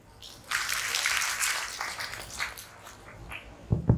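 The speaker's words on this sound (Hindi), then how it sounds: "आप सबके लिए तालियां" An audience at a Parichay Shivir gathering in Valukad breaks into applause, swelling quickly into a steady wash of clapping that gradually thins out, with a couple of sharp louder claps near the end.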